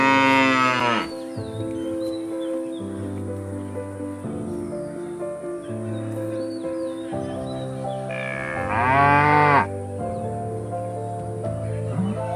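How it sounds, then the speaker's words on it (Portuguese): A cow on a farm lets out two long, loud mooing calls close by, one at the start and another near the end, with quieter farm ambience in between. "A vaca, além de ser um animal com um grito super forte"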